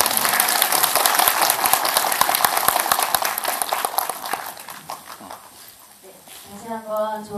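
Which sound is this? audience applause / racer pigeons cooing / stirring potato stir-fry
audience applause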